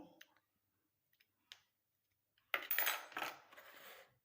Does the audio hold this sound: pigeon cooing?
no